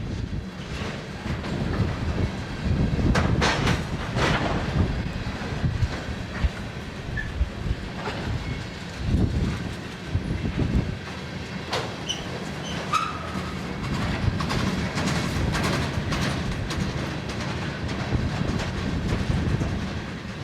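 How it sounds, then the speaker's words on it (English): A BNSF coal train rolls slowly past on a former Great Northern line, with rhythmic clickety-clack of wheels over rail joints, occasional wheel squeal and a steady rumble at close range. "a BNSF coal train slowly passes through."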